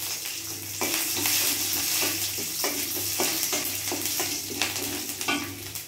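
Chana dal, coriander seeds and garlic frying in hot oil, a continuous close sizzle with repeated stirring scrapes and clicks of a spoon against the pan.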